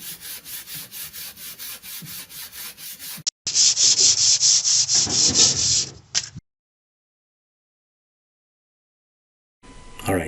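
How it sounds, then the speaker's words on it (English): Sanding a repaired car bumper by hand with 200 grit sandpaper: close, rhythmic rasping strokes, first even and steady, then louder and harsher, before the sound stops and leaves silence, followed by a brief return at the end. "What I'm going to do now is sand this down using 200 grit sandpaper and get it even with the rest of the surface."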